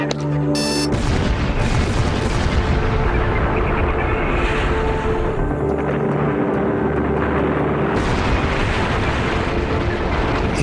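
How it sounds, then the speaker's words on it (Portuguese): A deep, sustained roaring dynamite blast at the Itaipu hydroelectric dam construction rumbles loudly for several seconds, dense broadband noise with a low boom that keeps rolling without letting up. "A explosão parecia fogos de artifício."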